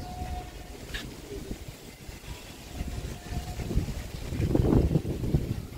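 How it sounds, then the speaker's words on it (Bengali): Strong wind buffets a rooftop garden, a loud, steady low rumble of gusts against the microphone that builds toward the end. "প্রচুর বাতাস আছে"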